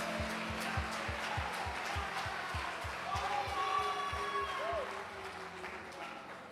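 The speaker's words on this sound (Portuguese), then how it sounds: "Você pode aplaudir Jesus bem forte do seu lugar." A church congregation applauds: dense, steady clapping spreads through the room under a thumping rhythmic bass beat, with a voice speaking over it.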